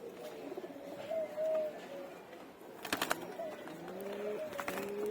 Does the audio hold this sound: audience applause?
no